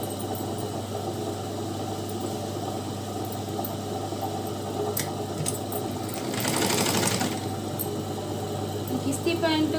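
Sewing machine stitching a skin-tight chudi pant, a loud steady mechanical whir with constant hum, speeding up briefly in the middle, while someone talks over it.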